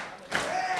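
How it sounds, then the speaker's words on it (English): A small, packed crowd at a Nov. 2005 NWA Cyberspace tag-team wrestling match swells into cheering and shouting after a brief lull, loud and sustained. "This intimate capacity crowd coming alive"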